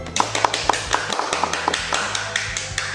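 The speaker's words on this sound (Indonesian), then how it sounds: "Kasih aplaus untuk penyaji 1." A small class audience applauds a student presenter with sparse, evenly spaced claps, a few hands clapping steadily and fairly close for about three seconds.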